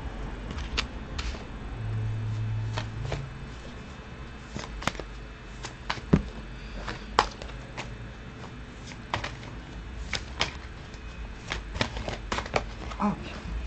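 Tarot cards being shuffled quickly at a table, a run of soft papery riffles and light flicks at close range, with scattered sharp taps and a low background hum.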